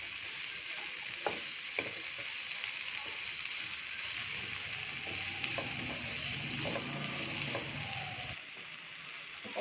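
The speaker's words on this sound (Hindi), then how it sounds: "और अब डालेंगे हम टमाटो एंड ग्रीन चिली। इनको अच्छे से मिक्स कर लेंगे।" Chopped vegetables, capsicum, tomato and green chili stir-fry in a pan for masala upma, a soft steady sizzle broken by scattered spoon scrapes and clinks, fairly close.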